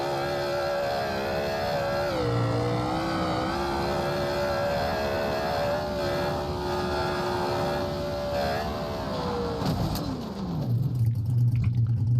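Street drag car in BeamNG Drive on an eighth-mile run, its engine droning at a steady high pitch under acceleration, then dropping sharply as the throttle lifts near the end, loud and with no voices.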